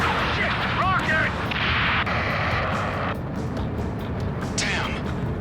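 Rockets fire and explode in the combat flight game Ace Combat 7: Skies Unknown, loud booming blasts and rushing whooshes layered over game audio, with a voice speaking through part of it.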